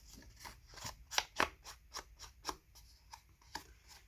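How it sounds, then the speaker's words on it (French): Paper being cut by hand with scissors for a scrapbooking album page, a series of close, crisp snips and sliding blade rubs at an uneven rhythm, quiet and with no talking. "j'ai coupé à la main avec le ciseau ici"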